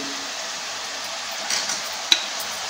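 A spoon stirs small fish and cucumber curry in a pot, a soft steady scraping and gentle sizzle with one bright clink near the end, close and alone.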